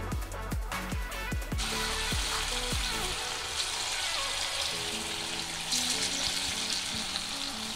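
Marinated chicken pieces dropped into hot oil in a kadai, giving a run of sharp splashing crackles at first, then a steady loud sizzle and bubbling that carries on close by with no talk.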